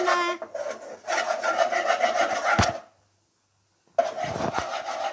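Chicken cheese pasta being stirred in a pan makes close scraping and rubbing strokes in repeated bursts, with a short silent pause before the mixing resumes.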